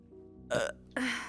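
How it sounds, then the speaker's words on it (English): A short, soft burp, two quick throaty bursts close to the microphone during a casual chat, against a faint background tone. "That was a weak ass burp."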